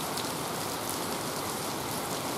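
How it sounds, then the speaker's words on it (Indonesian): Heavy rain falls steadily along a railway line near Cibatu, a dense, even hiss with no breaks, moderately quiet and heard alone. "Cuaca sedang hujan deras sekali ya"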